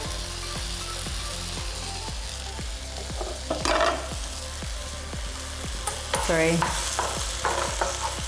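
Shiitake mushrooms with rosemary fry in a pan with a continuous sizzle, alongside a regular low ticking and brief clattering bursts of utensil movement; a voice speaks one short word.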